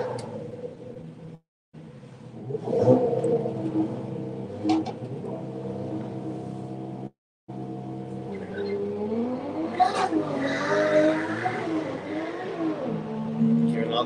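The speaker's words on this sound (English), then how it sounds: "VR6 powered Renault 5 will be coming around as well." A VR6-powered Renault 5 race car comes around the track during a test session, its engine droning and rising through revs, joined by other race cars, with a commentator talking over it.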